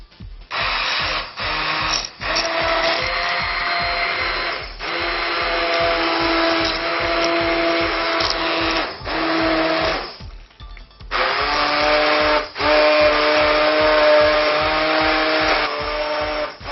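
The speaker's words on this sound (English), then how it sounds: "took it off the stove in order to use the immersion blender with it" An immersion blender purees zucchini bisque soup in a pot taken off the stove. The motor whirs loudly and steadily, briefly dipping and restarting, with churning liquid throughout and no talking.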